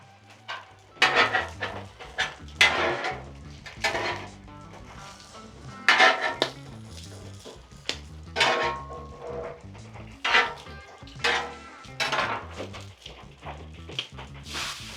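A supersized hash brown is flipped on a Blackstone flat-top griddle, with a metal spatula scraping and clanking in repeated short bursts over steady background music.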